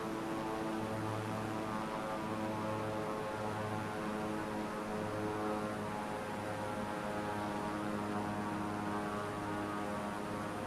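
Steady propeller airplane engine drone from a flight simulator game, a low running plane nearly out of fuel on approach; continuous and even throughout with a faint rhythmic pulse, no voices.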